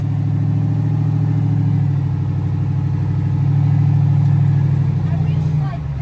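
A car engine labours on a rough desert trail, rocking forward and reverse, with a loud steady drone that swells and dips as the revs rise and fall.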